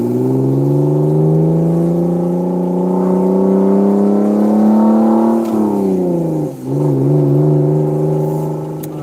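A BMW engine fitted with an aggressive stage 4 cam revs loudly and close. Its rough, lumpy drone climbs steadily, dips sharply, then settles back into a throbbing idle-like rumble.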